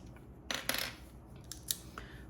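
Scissors snip through planner sticker sheets in a few quick, close cuts with short pauses between them; nobody talks.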